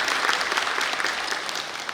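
Loud, dense applause from an audience at a Shrimad Bhagavat Katha gathering, sustained evenly across the whole stretch with no pauses.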